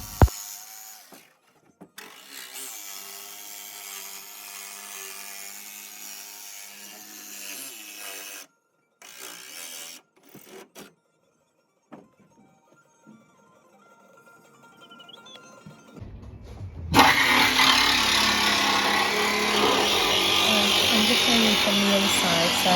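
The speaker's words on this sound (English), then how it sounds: "we've used the jigsaw on the straight lines just to connect it together, and this will be what we use to cut out the rest of the shape there now" Jigsaw cutting a roof vent hole in a Ford Transit van's metal roof, with buzzing cutting bursts broken by pauses, then a louder, harsher continuous cut toward the end.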